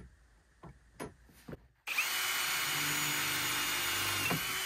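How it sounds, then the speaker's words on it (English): A few faint taps, then a power drill starts up loudly and runs steadily, whining as it bores through material close by. "So let's drill the hole"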